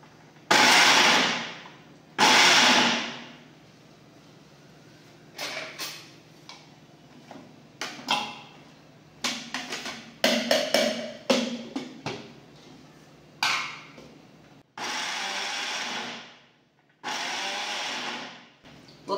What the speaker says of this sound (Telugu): డైరెక్ట్గా మిక్సీ ఇటు తిప్పకుండా ఇటు పల్స్ ఇస్తూ చేసుకుందాం.